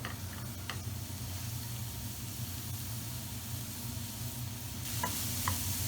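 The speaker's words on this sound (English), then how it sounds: "we're going to add our onion straight in." Chopped onion sizzles in 1 or 2 tablespoons of oil in a small frying pan, a steady quiet crackling hiss with faint ticks and a brief louder flare near the end.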